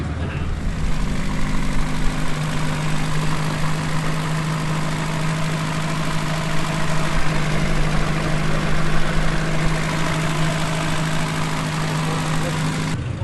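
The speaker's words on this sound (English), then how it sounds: "The smell of exhaust and the noise and all the sorts of different cars we've got here." Vintage car engines idle steadily at Brooklands during a VSCC driving test event, a loud, continuous low rumble with a sustained drone, with background chatter from the busy paddock.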